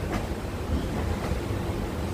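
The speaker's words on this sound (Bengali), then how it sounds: "আমাদের ট্রেন গতি তোলা শুরু করেছে" Inside a nearly empty Shantipur local train leaving Ranaghat and picking up speed, a steady low rumble of wheels and carriage with faint rattles and a couple of brief rhythmic knocks, continuous and close, with no voices.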